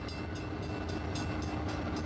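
A train rolls through downtown Pine Bluff in a steady, loud rumble with rhythmic wheel clicks repeating roughly twice a second, close by and continuous with no talk.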